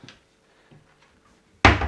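A kitchen cupboard door without soft close shuts with one sudden loud bang after a near-silent pause with a few faint small knocks.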